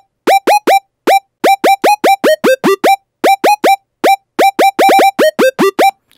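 Synth lead patch being designed in Serum, a short plucky gang-style lead with a fast decay, playing a busy rhythmic pattern of about twenty-five quick, punchy, bright harmonic notes that shift in pitch, loud and alone.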